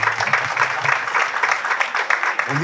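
Applause from a crowd, steady clapping filling the space, with a voice breaking in near the end.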